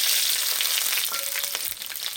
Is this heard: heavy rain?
no